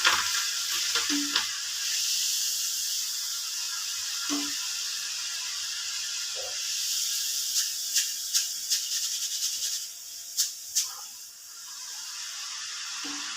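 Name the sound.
moong dal frying in oil on low flame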